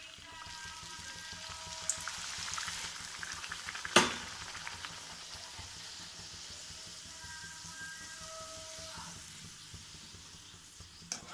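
Puris fry in hot oil, a steady soft sizzle and bubbling with a sharp crackle partway through and some faint clinks, heard close with no talking.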